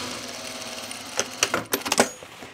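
A sewing machine runs a French seam, a low steady motor whir punctuated by a brief flurry of sharper clicks and taps near the end, close by and fairly loud.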